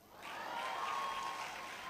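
A university graduation congregation audience in Ghana breaks into applause that swells after a soft start, then holds as a faint, distant, even wash of clapping with no talk.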